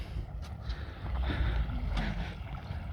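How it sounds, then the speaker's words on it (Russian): A boat pulls in on a mountain river in Yakutia, heard as a steady, low, rumbling drone mixed with gusty wind buffeting, fairly close and continuous. "и Моисей подплыл"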